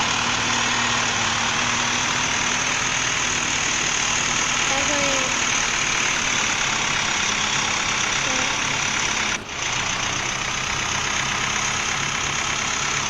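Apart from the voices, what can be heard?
tractor engine idling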